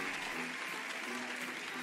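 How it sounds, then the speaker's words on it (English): A burst of applause during an online improvised Dungeons & Dragons one-shot, a quick, even patter of clapping that holds steady for a couple of seconds at moderate volume. "why don't we get a huge round of virtual applause for our two new players"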